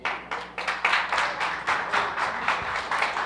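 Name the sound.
congregation applause in church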